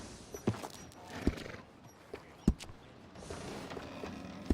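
Horse in Red Dead Redemption 2 at a stable: a few scattered hoof thuds and clops, moderately close, over a steady ambient background with no talk.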